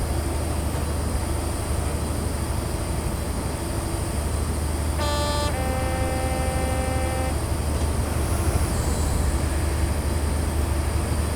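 A train rolling past in Train Simulator 2016 on a Western Mainlines route, a steady loud rumble throughout with a short horn toot partway through and a sustained tone after it, with no talk.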